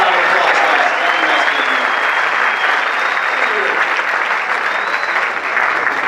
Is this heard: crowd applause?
yes